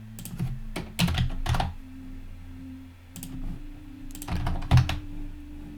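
Keys clatter on a computer keyboard while coding a Flutter app, bursts of quick clicks and thunks coming in uneven clusters with brief pauses between, close and moderately loud with no talking.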